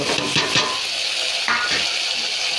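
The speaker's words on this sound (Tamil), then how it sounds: "ஒரு 2 செகண்ட் ஃப்ரை பண்ணுங்கள்." Ginger garlic paste and masala frying in a pan for beetroot biryani, a loud close sizzle with a few quick stirring scrapes, steady throughout with no talk.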